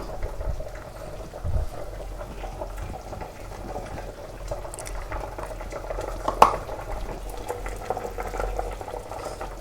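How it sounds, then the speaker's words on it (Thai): A pot of tilapia with dill simmers on a stove, a low continuous bubbling boil with soft liquid churning and a brief sharp clink partway through, quiet and without talking. "มาเบิ่งข้างหม้อเขาก็เดือด แล้วค่ะ"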